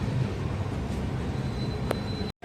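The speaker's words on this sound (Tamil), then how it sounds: "இந்த பக்கம் பார்த்தீங்கன்னா அந்த குட்ஸ் ட்ரெயின் போயிட்டுருக்கு" A goods train carrying Bharathi cement rolls past near Erode, a steady dense rumble and rattle of wagons close by that continues unbroken before cutting off abruptly at the end.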